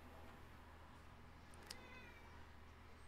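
A cat gives a single short meow, faint and distant over a low steady background hum.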